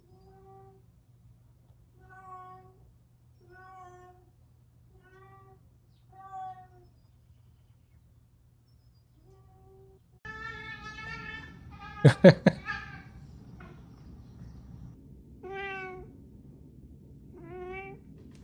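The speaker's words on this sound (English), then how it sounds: "So these are the meows I've got." A series of cat meows, several soft ones spaced apart, then louder, more insistent meows over background noise with a sharp burst in the middle.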